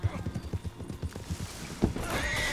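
Horse hooves clip-clop in rapid rhythm with a neigh in the Red Dead Online video game, close and fairly loud, with a louder burst near the end.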